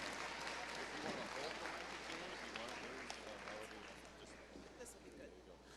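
Audience at a high school honors awards assembly claps for students, a steady, fairly faint wash of applause with crowd murmur and some talking mixed in throughout.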